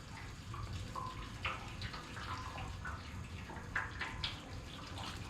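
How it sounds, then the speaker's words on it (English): Hot water is poured steadily into a 1965 VW Beetle fuel tank during cleaning, a continuous rushing splash with slight bubbling, fairly close and without talk. "So first I'm going to put in my hot water."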